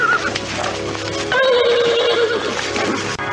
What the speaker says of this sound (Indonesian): Si Tunggul kembali meringkik dan kini mendekati Raden Purbaya sambil menghentak-hentakan kakinya